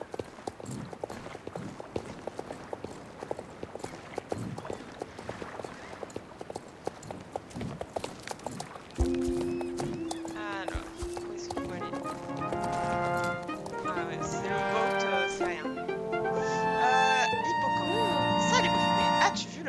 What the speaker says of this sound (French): Cheval là-bas.